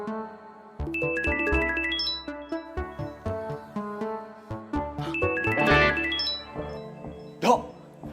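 A phone rings for an incoming call with a bright, melodic electronic ringtone, chiming notes that play steadily and fairly loudly, with no voices.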